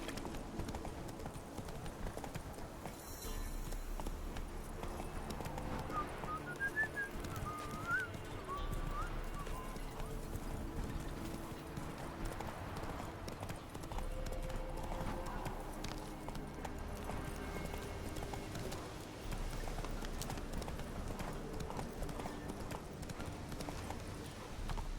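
Roach, the horse in The Witcher 3, trots along with a steady rhythmic clip-clop of hooves, fairly quiet and continuous beneath game music, with an occasional whinny.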